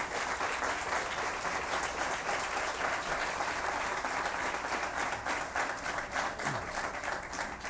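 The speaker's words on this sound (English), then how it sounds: "give them a round of applause and appreciation" A crowd at a topping-out ceremony for the Ascension Saint Thomas Midtown hospital construction gives sustained applause, a dense, even patter of many hands clapping that holds steady throughout and sounds moderately distant.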